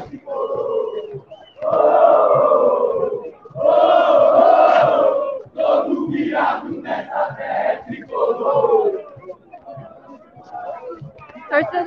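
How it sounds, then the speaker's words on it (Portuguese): Palmeiras football supporters outside the club's training ground, a crowd chanting and shouting taunts in loud surging bursts with babble between, close and raucous. "Provocação para a torcida do São Paulo em frente ao CT."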